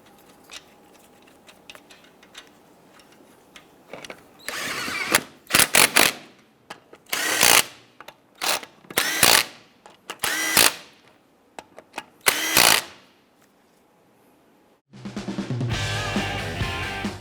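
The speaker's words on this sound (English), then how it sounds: "I'm going to install our lug nuts. Once we have all these on, we're going to go ahead and snug those down." A power tool snugs down the wheel lug nuts on a 1995-2001 Ford Explorer during a front brake job, in a series of loud, close bursts separated by pauses, ending with a longer sustained run.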